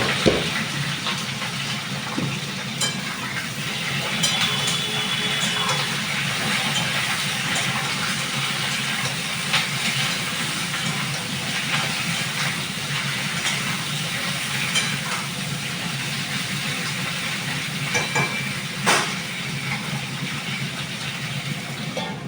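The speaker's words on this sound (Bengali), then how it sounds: "চলো এবার ফুলকপিগুলো ভেজে নিই।" Cauliflower florets frying in hot oil for a coconut-milk cauliflower curry, a steady broadband sizzle and hiss holding at an even level throughout with a few faint clicks and no speech.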